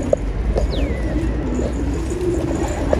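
Pigeons coo softly nearby, low rolling calls over a background of outdoor noise with a faint whistling sweep.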